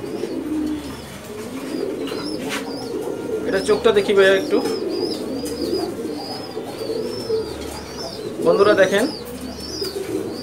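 A Bezi pigeon, a racing bloodline bird, coos in low, throaty rolls inside a breeding loft, fairly close, while people talk over it throughout.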